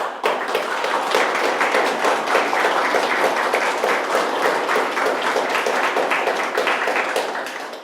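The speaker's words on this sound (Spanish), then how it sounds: "Dale un aplauso a Dios" A church congregation bursts into sustained applause during a Spanish-language sermon, a thick, even wash of many hands clapping that holds steady for about eight seconds and eases slightly toward the close.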